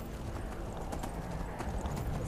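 Horse hooves clip-clopping in the video game Skyrim, a steady rhythmic trot of soft close thuds over a dense game background, with no clear speech.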